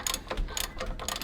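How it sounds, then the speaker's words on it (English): A ratcheting wrench clicks in quick bursts, about three short runs of ticking close by, while working on a Ferrari 360 transmission mount. "Your ratcheting wrench might come in handy if you have a 3/4"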